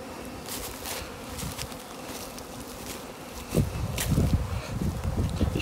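Spring cleansing flight of honey bees: a steady buzzing swarm near the hive, growing louder and busier in the second half as bees pass close by.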